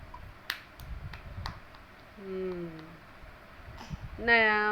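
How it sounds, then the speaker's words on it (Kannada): Several sharp hand claps in a quick, uneven burst, followed by humming, tonal voice sounds and a brighter sustained tone. "ಚಪ್ಪಾಳೆ ಕರ್."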